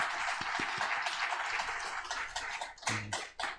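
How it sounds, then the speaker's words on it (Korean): A church congregation at a Korean Sunday service claps for two retiring members, a steady crowd of applause that thins into a few scattered, louder claps toward the end. "격려의 박수를 한번 드리도록 하겠습니다."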